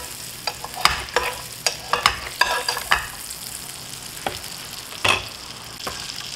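A sirloin steak fries in butter and oil, a close, busy sizzle with clattering knocks and scrapes as the meat is flipped and moved around the pan.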